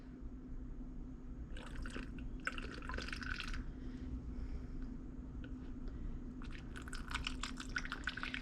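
Witch hazel poured into a container of distilled water for a homemade antiseptic spray, heard as two bursts of trickling liquid close by, then a pause and a final splashing pour over a steady low hum.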